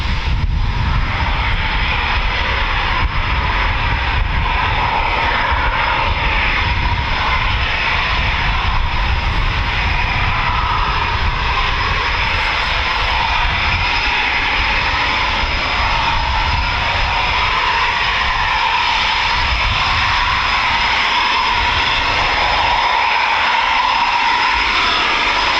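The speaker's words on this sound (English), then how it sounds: "More Typhoons coming out, taxiing." Eurofighter Typhoon FGR4 fighter jets taxi at an RAF Coningsby QRA station, their engines a loud, unbroken roar with a steady whine running through it for the full length.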